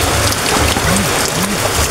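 Heavy rain pours down at night during a strong flood, a loud, steady, close hiss of drops hitting surfaces with no break and no voices.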